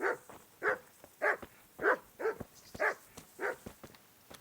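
A dog in the medieval video game Kingdom Come: Deliverance barks repeatedly in a steady rhythm, about eight sharp, fairly close barks spaced evenly with no talking over them.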